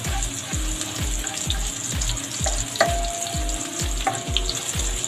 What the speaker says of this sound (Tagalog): Halo-halo lang po para hindi po siya manikit or masunog.